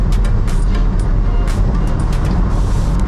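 Ford Ranger Wildtrak 2.2 diesel pickup accelerating on the road, heard from inside the cab as a loud, steady low rumble of engine and road noise with faint ticking clicks scattered through it.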